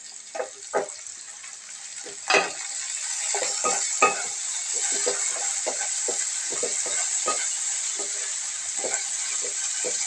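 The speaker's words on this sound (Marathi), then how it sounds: "टोमॅटो मऊ होईपर्यंत आपण चांगला भाजून घेऊ." Chopped onions and tomatoes sizzle steadily in a hot pan, with a constant hiss and intermittent scraping and tapping from a stirring spoon, close and moderately loud.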